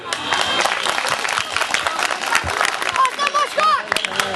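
A crowd at a traditional village picnic breaks into applause, a dense wash of clapping that carries on steadily before a voice and music-like tones rise near the end.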